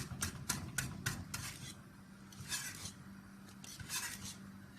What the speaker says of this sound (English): So I'm gonna whisk it all together again.